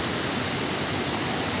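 A waterfall of fast-moving water roars as a steady, dense rush of broadband noise, close and constant throughout.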